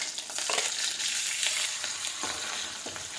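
Onion and chili hit hot oil already holding cumin seeds, mustard seeds and curry leaves, giving a bright, steady sizzle with a few stirring clinks, close and loud.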